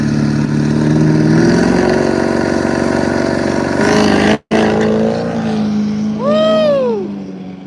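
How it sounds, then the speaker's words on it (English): A diesel truck launches hard down a drag strip at a racing event, its loud engine roaring and revving under strain, cutting out for an instant, then carrying on as a rising whine sweeps past. "Diesel truck's getting after it on the line there"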